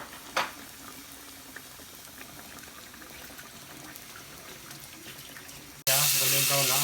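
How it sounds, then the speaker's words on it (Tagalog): A breaded lemon chicken roll coated in potato starch dropped into hot oil, a steady sizzling hiss that ends in a sudden loud bubbling burst near the end. "Tapos, nag-ready tayo ng mantika. Lemon chicken natin. Ipiprito na natin."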